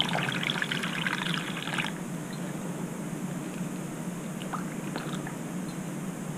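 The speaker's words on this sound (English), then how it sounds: "and then I'm going to fill it up with water" Water is poured into a container while mixing a small pet cage cleaner: a loud, splashing pour for about two seconds, then a quieter, steady trickle continuing to the end.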